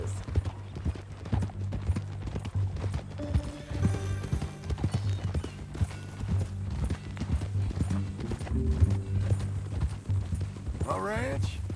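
Horse hooves clip-clop steadily in a video game ranch scene, with a horse's whinny rising near the end, all under ongoing conversation and background music.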